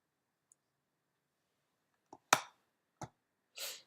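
Mouse clicks while importing images in Adobe Lightroom: one faint tick, then a quiet pair, a sharp louder click, another click and a broader final click, all isolated against near silence.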